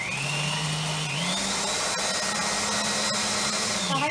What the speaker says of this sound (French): Et là, on va mixer pour que ça fasse un peu une compote.